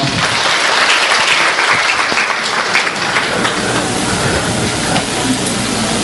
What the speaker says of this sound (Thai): เสียงปรบมือให้กับท่านอีกครั้งหนึ่งเลยครับ